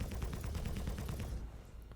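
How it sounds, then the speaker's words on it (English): Spaceship cannons of a Starfarer Gemini in the game Star Citizen fire in alternating mode, a fast, even stream of loud, close shots that cuts off after about a second and a half, leaving a low hum. "So you can have them sort of alternate firing like that"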